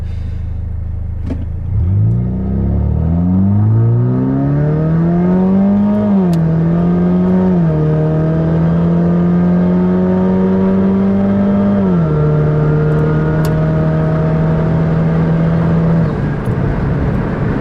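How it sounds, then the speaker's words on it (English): A 2008 Saturn Sky Redline's turbocharged engine revs up loudly and steadily during manual shifting, pitch climbing, dipping briefly at each shift and holding high, with no talking. "I do love the sound this car makes when you let off. It really does that. The turbo, it's pretty awesome."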